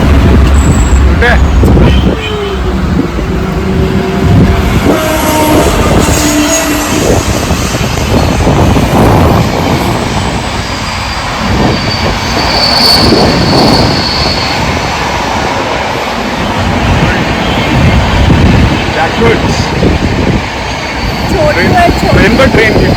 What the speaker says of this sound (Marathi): ट्रेन पर ट्रेन की.